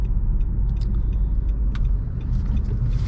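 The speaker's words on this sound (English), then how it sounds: "once you get used to this car, driving it around," From inside a 2019 Nissan Rogue SL SUV on the road, a steady low engine and tyre rumble fills the cabin, with faint rattles and clicks over the drone.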